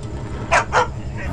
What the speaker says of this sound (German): Ist der Hund?